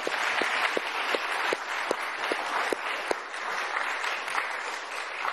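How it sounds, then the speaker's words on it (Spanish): A live audience applauds steadily at a Venezuelan presidential television program, dense clapping filling the room with a few sharper individual claps standing out, sustained and fairly loud throughout. "vamos a aplaudirlo"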